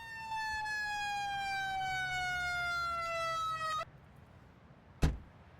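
A Federal-style power call siren from an EM4 Upstate New York emergency vehicle mod wails as a steady descending electronic tone for nearly four seconds, then cuts off, followed by a brief sharp thump.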